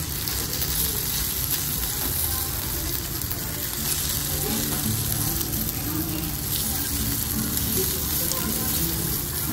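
A sizzling plate of food served at a restaurant hisses and crackles steadily and fairly loudly throughout, with faint background chatter.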